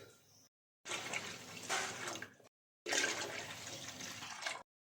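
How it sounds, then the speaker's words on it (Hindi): Water pouring into a pot of karhi on the stove, two bursts of steady rushing, splashing liquid a couple of seconds each, close and fairly loud, with short silent breaks between them. "पानी इसमें हमने शामिल कर दिया है"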